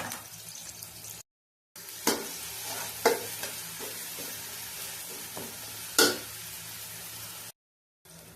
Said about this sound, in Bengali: আমি দিয়ে দিলাম পেঁয়াজ কুচি, কিছু দিয়ে দিলাম রসুন কুচি। এগুলো আমি একটু ভেজে নেব।